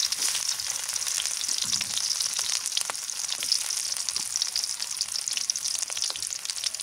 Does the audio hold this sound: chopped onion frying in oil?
yes